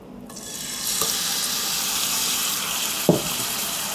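Chicken pieces hitting hot olive oil in a pan, a steady bright sizzle that swells after the first moment and holds, with a couple of brief utensil clinks, near and moderately loud.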